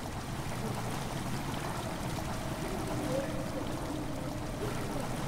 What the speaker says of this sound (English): Water's begun to slowly fill the chamber.